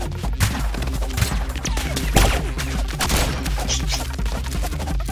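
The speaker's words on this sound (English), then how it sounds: "Oh I shoot at you!" Gunfire in the Rounds team deathmatch game, rapid dense bursts of shots and impacts over a booming, busy game soundtrack, loud and continuous.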